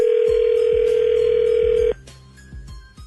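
A telephone call is placed: a loud, steady dial tone holds close to the receiver, then cuts off into faint line clicks and pulses with no talking.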